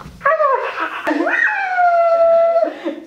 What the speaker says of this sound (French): Quand il t'appuie là, il passe en mode aboiement.